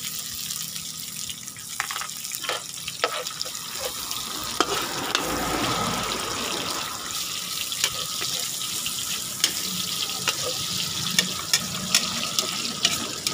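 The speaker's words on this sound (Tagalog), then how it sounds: "Dapat yung bawang maganda rin na palutong mabuti para lumabas yung aroma niya" Garlic and onion sauté in a hot pan for pinakbet, a steady close sizzle with scattered crackles and occasional stirring clatter that carries on throughout, with no talking.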